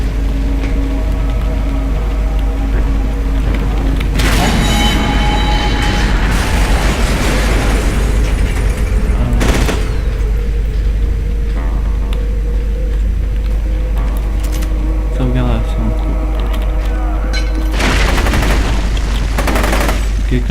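Repeated explosions and bursts of gunfire from the video game FEAR 2, loud booms at intervals over a steady low hum, with brief faint voices in between.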